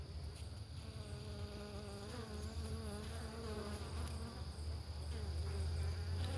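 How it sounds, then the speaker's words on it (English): Italian honeybees swarm around a homestead beehive, producing a dense, steady buzzing drone of many wings close to the microphone that holds constant throughout with no voices. "These are our Italian honeybees."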